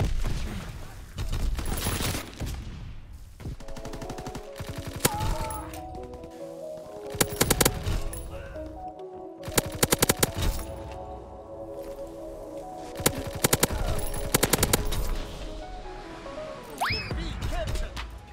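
Bursts of rapid Sten submachine gun fire crackle through a Call of Duty WW2 match, mixed with other game effects and a busy, constant battle soundscape.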